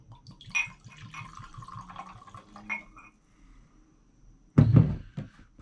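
Proper Twelve whiskey pours from the bottle with a soft glugging trickle, followed by a louder thunk as the bottle is set down or the top is handled, all close and quiet.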